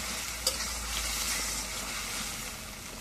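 Fish goes into a pan of fried spice paste and sets off a soft, steady sizzle with some stirring, after one brief clatter near the start.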